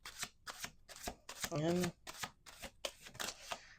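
Tarot cards shuffled by hand in a quick run of about ten crisp riffling bursts, close and fairly quiet, with a brief spoken word partway through.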